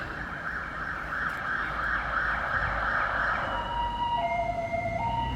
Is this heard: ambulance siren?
yes